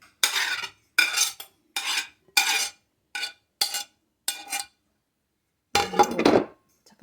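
Organic quinoa salad being stirred in a bowl, with a series of short scraping clinks from a utensil in a steady rhythm, a pause, then a longer louder mixing scrape close by.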